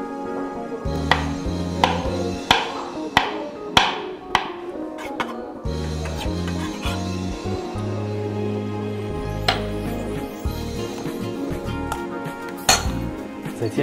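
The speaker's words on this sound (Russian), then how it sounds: "Нарезаем наши оливки." A knife slices through pitted olives in a quick series of sharp, rhythmic cuts. Light clinks of the blade against a hard surface come through close and clear, and no one speaks.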